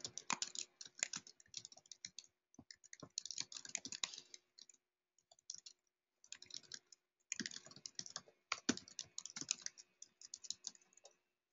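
Quick message typed on a computer keyboard during a demonstration of building a community form, with close, rapid key clicks in bursts separated by short pauses and no speech.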